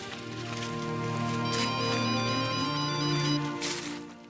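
A phone rings with a steady electronic ringtone pattern, continuous and fairly loud, over soft tonal background music, with no one speaking.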